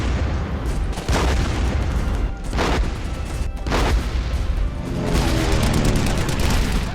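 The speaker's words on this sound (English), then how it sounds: "Artillery and enemy supporting fire is also everywhere." Artillery and enemy supporting fire in the video game Flash Titan, a dense continuous barrage of booms and gunfire with repeated sharper blasts standing out, loud and sustained throughout.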